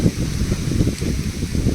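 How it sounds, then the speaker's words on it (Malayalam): Steady, fairly loud low rumble of wind buffeting outdoors, a continuous gusty roar without a break, with no voices. "ഇതാ കാറ്റ്"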